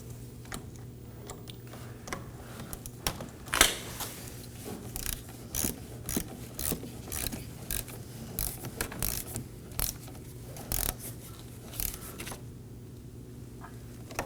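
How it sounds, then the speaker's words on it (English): A ratchet snugs down the 10mm nut on a negative battery terminal clamp of a 2020 Toyota Corolla, giving a run of short, close mechanical clicks over a steady low hum. "slide it over the post, and snug down the 10mm nut"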